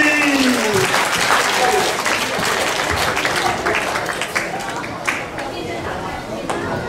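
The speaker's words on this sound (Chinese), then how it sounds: "请鼓掌欢迎他们出场" Clapping from an audience at a church Christmas party greets recorder performers, a brisk burst of applause that thins over the seconds, with voices and a spoken announcement over it.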